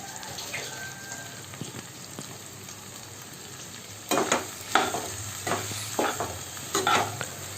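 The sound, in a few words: cut okra sautéing in oil in a pan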